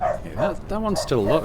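A dog barks and yips several times nearby in a home, the short harmonic woofs mixed with someone talking over a video game.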